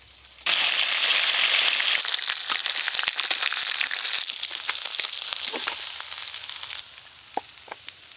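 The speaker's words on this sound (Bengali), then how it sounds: "মাছ তো ভাজা হয়ে গেল" Fish pieces frying in a pan in a home kitchen, with a loud, close hiss and spatter that begins abruptly, holds steady for several seconds, then fades into a few scattered pops; no talking.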